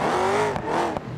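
A car engine with an automatic transmission in the driving game BeamNG.drive, revving steadily with the pitch climbing, then dipping briefly at two quick shifts, loud and close, no talk.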